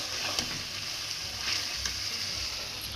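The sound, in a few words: potatoes frying in a pan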